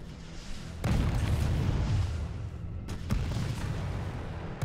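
Rocket launcher fire in Resident Evil 3 Remake, with two loud booming blasts followed by long rumbling roars, the second blast arriving a couple of seconds after the first.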